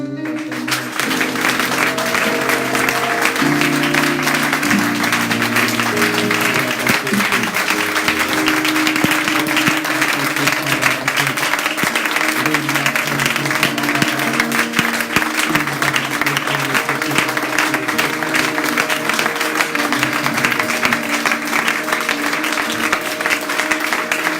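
A church congregation at a mission gathering in Dakar bursts into sustained applause and cheering, steady and loud throughout, with a crowd's roar and a low musical drone beneath.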